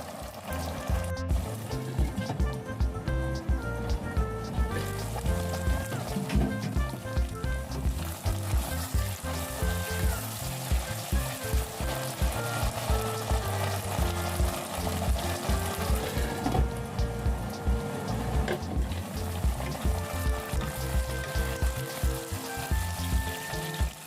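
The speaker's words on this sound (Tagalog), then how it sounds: "Painitin at i-fry na po natin ang ating patatas." Potatoes fry in hot oil in a pan with a steady, dense sizzle and crackle, punctuated by occasional stirring clinks and scrapes, close and continuous throughout.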